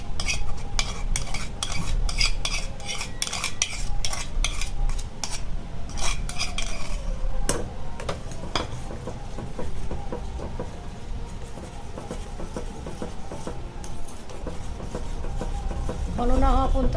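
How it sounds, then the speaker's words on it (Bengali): A thickening mixture is stirred in a pot for a Ramadan-special home recipe, a metal spoon scraping and clinking against the pot in a steady, close rhythm, with a quiet sizzle underneath and brief speech in places. "ঘন না হওয়া পর্যন্ত আমরা নাড়তে থাকবো"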